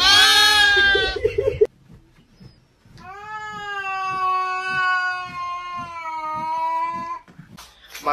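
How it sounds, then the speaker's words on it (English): Two cats meow loudly up close: a harsh, drawn-out yowl, a short pause, then a long, steady, tonal meow lasting several seconds, with no talking. "My two kitty cats"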